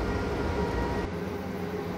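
A train in Train Simulator 2014 gives off a continuous, even rumble with a low hum underneath, loud and steady throughout, with no one speaking.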